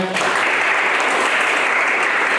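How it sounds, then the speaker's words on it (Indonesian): Lively applause from a church congregation at a Christian marriage seminar, starting abruptly and holding dense and loud throughout. "Boleh berikan tepuk tangan semangatnya."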